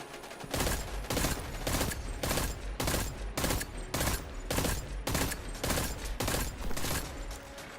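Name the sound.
pulse rifle gunfire in the video game Destiny 2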